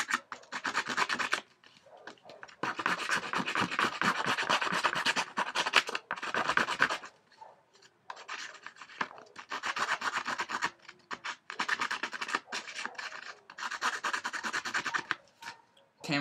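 Paper edges being distressed with a distressing tool for a scrapbook layout: repeated close, raspy scraping strokes in bursts, with short pauses between passes.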